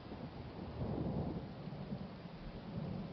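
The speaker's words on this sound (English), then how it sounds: "when the thunder muttered again in the west" Distant thunder muttering in the west on a stormy night, a low, soft rumble swelling and fading over a few seconds beneath a steady hiss like rain, with no voices.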